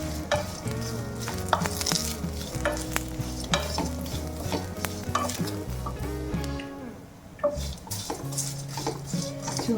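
Potato masala curry frying in coconut oil over a low flame, with steady sizzling, scraping and stirring of a pan, spoon clinks against metal, continuous and close, no talking.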